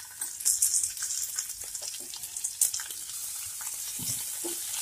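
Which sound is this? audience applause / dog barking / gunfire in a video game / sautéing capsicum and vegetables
sautéing capsicum and vegetables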